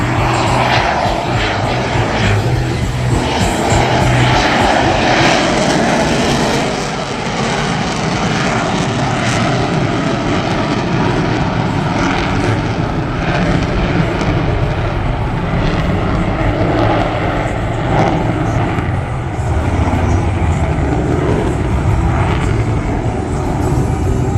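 A propeller aircraft at an air show over Jones Beach goes to full throttle and powers out, a loud sustained engine roar that swells and drifts with faint crowd ambience beneath, with no talk.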